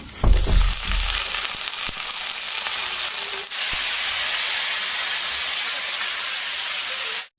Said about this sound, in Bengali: তরকারিটা কষে নিলাম,